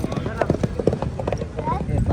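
Horses clip-clopping at a tent pegging (neza bazi) event in a Pakistani village, hooves thudding in a steady rapid rhythm close by while someone talks over them.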